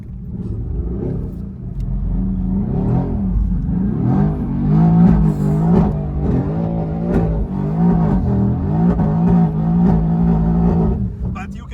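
Mercedes-AMG GT R engine revving and droning steadily while drifting, loud and close with the pitch rising and falling through continuous throttle changes, and voices talking over it.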